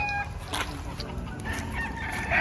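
Chickens in a pen, early bird bullstags and pullets, cluck and crow close by, with overlapping calls over a steady farm background and no talking.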